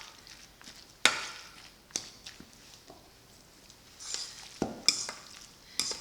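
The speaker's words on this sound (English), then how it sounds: "So we just mix all that together." Tuna and egg salad being mixed in a bowl, quiet soft stirring with several sharp clinks and scrapes of a utensil against the bowl, spaced irregularly.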